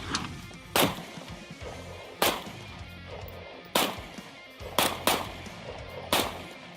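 A Diamondback DB9 Gen 4 9mm pistol fires sharp, loud cracks outdoors in the desert, spaced shots and then closely paired double taps, each with a short echo tail and no talk.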